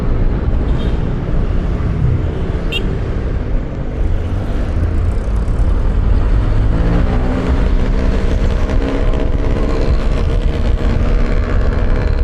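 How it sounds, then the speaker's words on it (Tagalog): A jeepney engine runs loudly and steadily nearby on a Philippine road, its heavy low rumble filling the whole stretch alongside general traffic noise. "Mga ganyang tunog ng jeep, pauunahin mo yan kasi malalakas makina ng mga yan."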